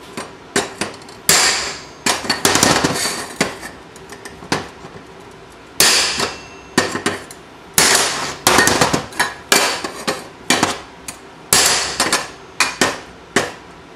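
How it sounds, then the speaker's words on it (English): A stainless steel bar is banged repeatedly against a flange to knock it down, making loud, sharp metallic clanks in irregular bursts and clusters with brief gaps between them. "just stick this stainless steel inside the flange and just kind of bang it"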